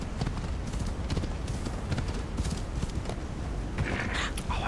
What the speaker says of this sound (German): Ja, hier ist mein Pferd.